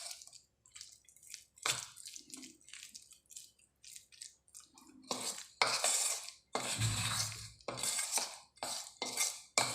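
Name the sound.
flour and okra being mixed in a bowl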